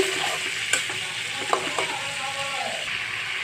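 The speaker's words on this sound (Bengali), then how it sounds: "এখানে আমি ভাজিগুলো দিয়ে ফেলবো একে একে আমি সবগুলো ভাজি দিয়েছি" Pointed gourd, jackfruit seeds and potato fry in a pan with chili powder and no added water, giving a close, steady sizzle broken by a few sharp clinks and scrapes of stirring.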